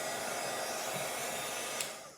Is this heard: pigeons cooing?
no